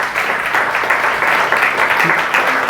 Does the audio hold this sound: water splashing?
no